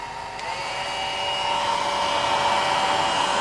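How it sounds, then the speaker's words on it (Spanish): A hair dryer blows steadily at close range during a hands-on electricity class, a loud continuous whirring hum with a constant high whine and no talk. "Vos manejar el secador. Sécame el pelo a mí."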